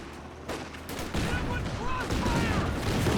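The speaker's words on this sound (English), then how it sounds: "Once again the Raketin getting shot at." Bursts of gunfire rattle around a Raketenwerfer during a Company of Heroes 2 1v1 match, steady overlapping shots and volleys filling the scene while a commentator talks over them.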